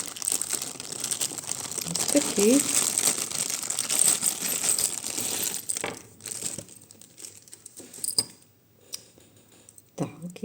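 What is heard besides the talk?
small packet being opened, crinkling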